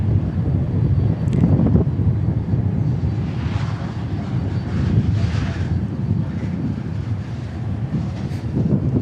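A UPS Boeing 747 arrives at Dallas Fort Worth Airport, a low rumbling jet roar swelling and fading slightly, mixed with wind buffeting on the microphone.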